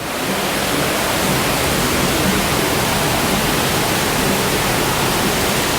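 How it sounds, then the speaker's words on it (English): Steady broadband rush of splashing water at the water park with water slides aboard the MSC Seashore cruise ship, a continuous, fairly loud wash with no voices standing out. "Yeah, this is just a water park area."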